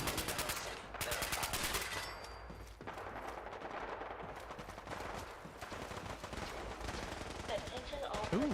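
Gunfire in the Fallout 4 video game: rapid machine-gun bursts and scattered shots at moderate level, with a player talking intermittently over the fighting.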